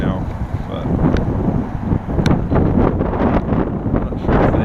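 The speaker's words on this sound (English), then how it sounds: "It's still pretty windy right now" Strong gusting wind batters the microphone on a river trail after a windstorm, a loud, continuous low roar with rustling bursts, and a voice speaks faintly beneath it.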